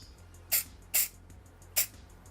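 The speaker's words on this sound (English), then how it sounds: "grab the activator spray" Three short, sharp sprays from an aerosol can of glue activator, each a quick hiss, with a brief pause between the first two and a longer gap before the third.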